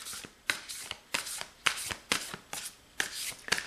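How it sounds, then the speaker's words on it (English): Large-size oracle cards shuffled by hand in quick repeated bursts, each riffle a crisp papery flutter with short pauses between, close and clear with no talking. "Now the oracle cards are a little more difficult to shuffle."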